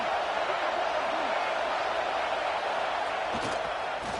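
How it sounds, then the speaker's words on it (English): Stadium crowd roar in a college football video game, Michigan versus Penn State, as the home fans make noise for a red zone defensive stand; a dense, steady wash of crowd noise under a commentator's voice. "This crowd is trying to inspire this defense to make a big red zone stop."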